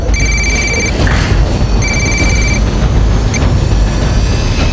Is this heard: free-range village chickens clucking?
no